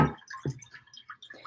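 Birch juice poured into a coffee filter, giving soft splashing and trickling drips in a few short bursts, close and fairly quiet with no talk.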